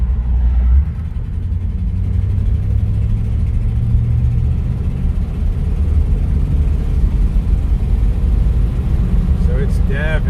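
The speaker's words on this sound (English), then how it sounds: "So I'll let you hear it downshift here." A 1959 Cadillac fitted with Pertronix ignition and 8.5 mm MSD Super Conductor plug wires drives along, its engine droning low and steady as it downshifts, with a shift in pitch near the start and a voice speaking over it.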